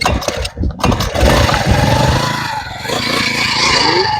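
A petrol engine on a farm sprayer pump is pull-started by rope; after a short tug and cough it catches and settles into a loud, steady running drone, close by with no talk.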